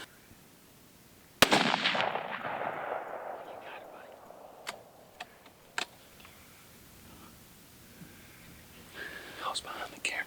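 A single loud rifle shot at a deer during a Mississippi hunt, a sharp crack followed by a long rolling echo that fades over several seconds, with hushed whispering voices nearby before and after.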